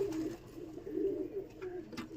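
Pigeons kept indoors in a loft with their wings tied give soft, low cooing that rises and falls steadily throughout, fairly quiet and close by.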